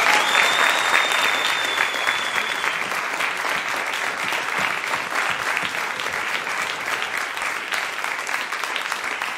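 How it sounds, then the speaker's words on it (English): Large crowd applauding organizers at a startup pitch event in Oulu, loud continuous clapping that holds evenly throughout, with a brief high whistle-like tone early on. "Please, big round of applause for all of our organizers."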